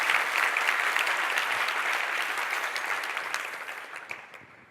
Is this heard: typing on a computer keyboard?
no